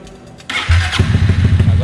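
A Honda Titan motorcycle with a weak battery cranks and catches, its engine then settling into a loud, close, pulsing idle while a voice talks over it.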